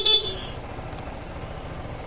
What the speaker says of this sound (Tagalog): Tapos dito yung selector ng busina.